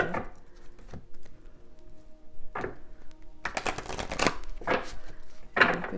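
Tarot cards are shuffled by hand in bursts of dry riffling and patter, a few brief flicks at first and then a denser shuffle, close and moderately quiet.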